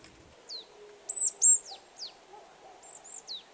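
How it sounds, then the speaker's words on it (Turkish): Woodpeckers calling outdoors: a series of short, sharp high-pitched calls and chirps in irregular bursts, with two louder calls near the middle over a quiet background. "Onlar ağaç kakanlar."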